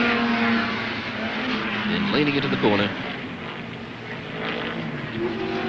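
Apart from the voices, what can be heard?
Chevrolet Camaro touring car racing at Warwick Farm circuit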